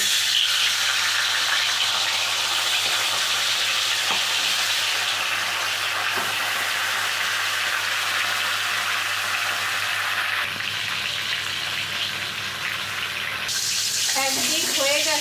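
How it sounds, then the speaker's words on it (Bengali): Hilsa fish heads frying in mustard oil in a kadai produce a loud, close, unbroken sizzle that stays steady throughout, with a slight shift in texture near the end. "এবার মাথাগুলো ভেজে নিচ্ছি।"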